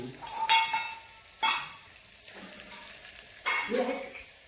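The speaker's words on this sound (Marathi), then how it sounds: "हलवतो मी कांदा हळू हळू हळू" Onions frying in a pan and stirred slowly, with a low sizzle and a few distinct spatula scrapes and clanks at intervals; faint voices in the background.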